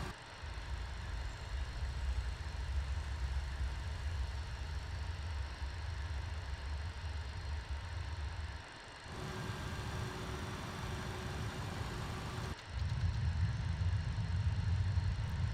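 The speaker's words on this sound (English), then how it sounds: "We'll start engine number 2 first." An MD-80 jet engine number 2 starts up in a flight simulator. A steady, rumbling engine and air roar fills the cockpit, and its tone shifts and thins for a few seconds midway before the low rumble returns.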